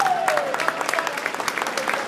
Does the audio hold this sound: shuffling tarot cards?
no